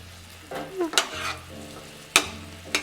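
Honey chili shrimp sizzle in a pan as the sauce thickens, with a steady low frying hiss broken by a few sharp clinks and scrapes of a utensil stirring against the pan.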